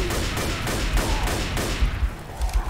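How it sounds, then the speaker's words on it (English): Repeated hunting rifle gunshots in the video game Left 4 Dead, sharp booming reports fired at a steady rhythm roughly every third of a second to half second, loud and close with no talk over them. "whose idea was the hunting rifle?"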